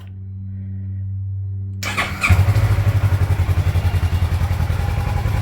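A motorcycle engine fitted with its standard exhaust muffler starts up after a brief quiet hum, then settles into a steady, rhythmic, pulsing idle, close and loud, with no talking.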